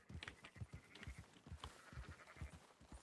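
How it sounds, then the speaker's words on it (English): Sheep bleat repeatedly in the Red Dead Redemption 2 video game, a flock's overlapping calls over hoof clatter and a low ambient bed, fairly close and steady throughout. "Marston, why don't you leave the sheep to me?"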